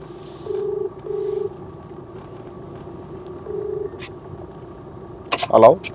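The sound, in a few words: telephone call dialing and ringing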